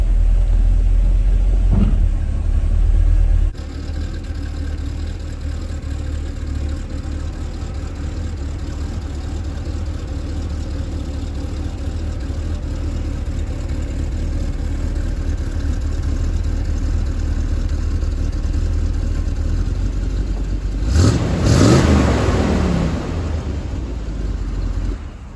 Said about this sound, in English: We're gonna start it up and back it out and bleed the power steering fluid.